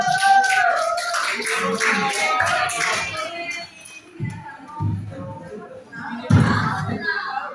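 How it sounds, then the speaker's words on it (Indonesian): High school classroom applause for student group 5, a burst of clapping from students that fades after a few seconds, followed by scattered taps and voices talking in the room. "kasih tepuk tangan semuanya"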